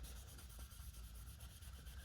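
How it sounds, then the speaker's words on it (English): Fine 2000-grit sandpaper rubs over the painted pinstripe on a 1988 Mercedes-Benz 560SL, making a soft, steady back-and-forth scrubbing that is quiet and close, with no talking. "I like using the 2000 grit paper when removing a stripe."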